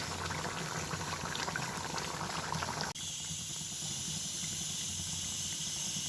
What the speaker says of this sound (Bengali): মাছ আর বেগুন যে একসঙ্গে দিয়েছিলাম ফুটে গেছে